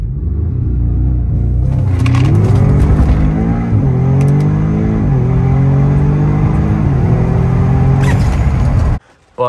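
Stage 1 EQT-tuned Audi S3 / Golf R / GTI accelerating hard, its engine rising through gears with loud rising-pitch pulls and brief shift dips, close and sustained, with no talk over it.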